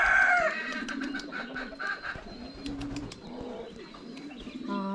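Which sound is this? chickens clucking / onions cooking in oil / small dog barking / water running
chickens clucking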